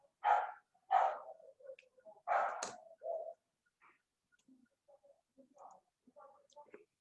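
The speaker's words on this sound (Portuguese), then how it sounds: "o cachorro do vizinho late, do outro vizinho responde" A neighbour's dog barks a few times, sharp and fairly loud at first, then trails off into faint, scattered yaps and small sounds in an otherwise quiet room.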